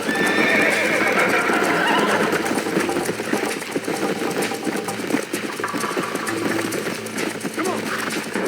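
Horses in the Red Dead Redemption video game, a whinny near the start followed by steady galloping hoofbeats and game effects, with people talking over the racing sounds throughout.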